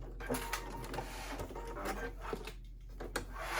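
A serger stitches a dress seam in quick bursts of mechanical whirring and clicking, fairly quiet, with brief pauses between runs.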